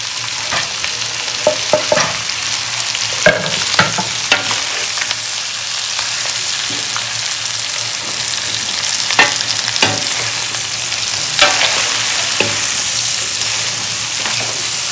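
Cabbage stir-fried over high heat in a pan for egg chicken hakka chow mein: a continuous close, loud sizzle broken by repeated sharp spatula scrapes and taps, with no voices.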